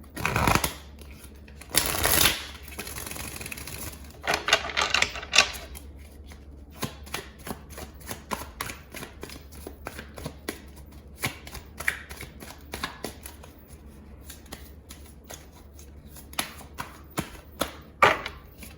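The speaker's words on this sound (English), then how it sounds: "Shuffle these real good." Tarot cards are shuffled repeatedly nearby, crisp riffling bursts followed by many quick taps and slaps, with no talking.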